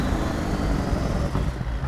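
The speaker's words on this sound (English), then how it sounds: "Oh, we have our Jake on." Jake brake on a CAT 3406E engine in a modded truck-driving game, a steady loud low rumbling drone that holds evenly and fades slightly near the end, with no voices.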